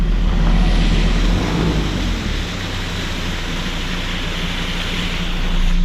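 Steady roadside waterfall beside the Palmerston Highway, a broad continuous rush of falling water with a deep low rumble, loud and unbroken throughout with no voices.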